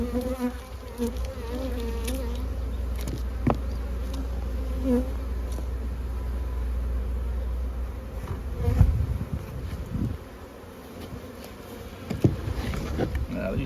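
Honey bees buzz steadily around small nuc hives outdoors, making a continuous close drone with a few louder bumps and handling knocks toward the end.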